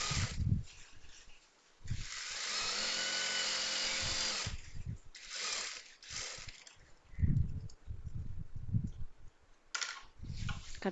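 A sewing machine runs in one sustained stitching burst while a hair band is sewn, with quieter handling noises and someone talking before and after it.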